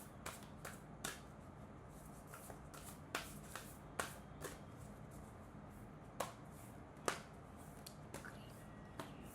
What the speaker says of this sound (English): so let's begin the shuffling